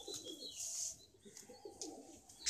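Madrasi competition racing pigeons cooing in a loft, soft low coos repeating near the listener against faint background chirps and rustle.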